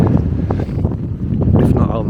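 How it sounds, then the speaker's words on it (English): Heavy wind buffets the microphone at a wild camp on Higher Shelf Stones, with a constant low rumble and gusty roar, close and loud, with a voice talking underneath. "Sorry about the wind, I hope you can still hear me okay."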